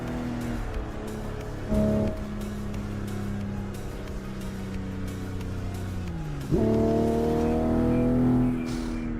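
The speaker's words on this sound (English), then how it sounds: "I'm driving in the Shutoku Revival Project track" A car races through the Shutoku Revival Project track in Assetto Corsa, its engine revving and pitching down through gear changes, then surging up again, loud and continuous with no talk.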